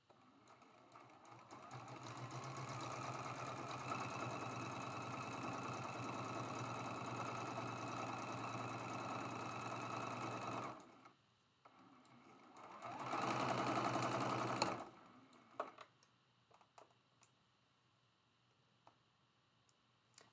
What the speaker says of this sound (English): we're going to sew this half square triangle together.